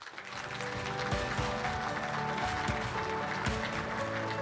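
An audience at a policy forum gives steady applause, a dense, continuous clatter of many hands that rises quickly and holds at a moderate level.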